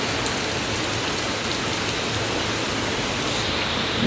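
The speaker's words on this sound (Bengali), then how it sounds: "খুব জোর বৃষ্টি পড়ছে" Heavy rain pours outside in a loud, dense, unbroken hiss, steady from start to finish with a few faint drips standing out.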